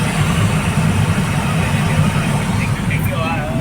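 The engine of a Mitsubishi Adventure idles in a constant loud low hum with a broad rushing layer on top, steady for the whole stretch with no speech over it.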